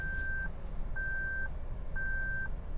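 A Toyota Land Cruiser's warning chime beeps three times at a steady rhythm while the truck is shifted into four-wheel-drive low, each half-second electronic tone clear over the low idle of the engine.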